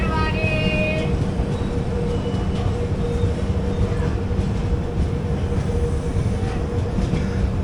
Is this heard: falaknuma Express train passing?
yes